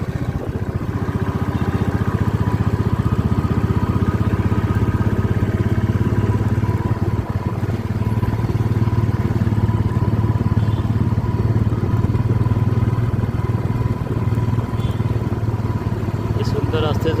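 Motorcycle ride toward Himalaya Darshan near Nainital, its engine droning steadily and loud for the whole stretch with rattling clatter and wind noise, close up throughout.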